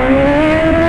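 A BMW S1000 motorcycle engine revs steadily at high pitch, loud and close, a sustained strong tone with no talk over it.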